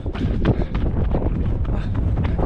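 Gusting wind buffets the microphone on a bridge during the 2025 Jinju Marathon, loud and continuous with low rumbling and faint runner footfalls underneath.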